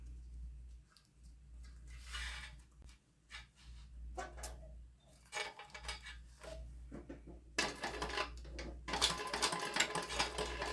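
A sewing machine top stitches a fabric satchel in several runs of fast, even mechanical whirring and clatter, close and moderately loud, separated by short pauses and over a low steady hum.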